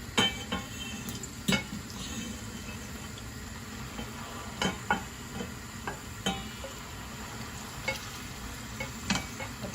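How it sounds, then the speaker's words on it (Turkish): Steady soft sizzling of eggplant frying in oil, with occasional light clicks and taps of a utensil against the pan. "Önce patlıcanımı kızartacağım."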